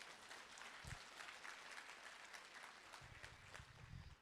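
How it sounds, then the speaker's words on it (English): A seminar audience at a business success academy claps, a faint, continuous patter of applause with a few low thumps. "You can go ahead, clap if you like."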